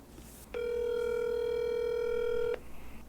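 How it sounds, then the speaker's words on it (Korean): A telephone call to a friend rings out as a single sustained ringback tone lasting about two seconds, clear and moderately loud over a faint room hush. "다른 친구에게 한번 전화해서 알아볼게요"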